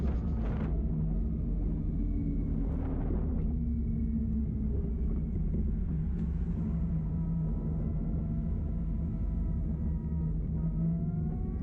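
A motorcycle engine rumbles steadily during a ride home, a continuous low drone with faint wind noise and a brief rise in revs early on, loud and close throughout.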